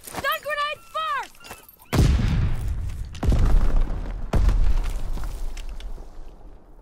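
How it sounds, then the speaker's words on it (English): Stun grenade exploding in Call of Duty: WWII on the Shipment 1944 map: after a brief spoken line, a loud, close boom hits, followed by two more heavy blasts and rumbling decay. "Stun grenade first!"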